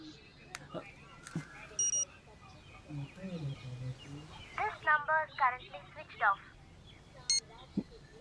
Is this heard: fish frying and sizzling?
no